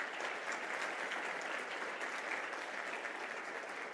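Sold-out audience at the Livonia State of the City address gives a big hand, dense continuous applause that stays steady and fairly full throughout, with no voices over it.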